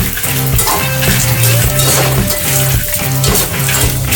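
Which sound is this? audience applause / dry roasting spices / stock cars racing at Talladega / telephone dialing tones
dry roasting spices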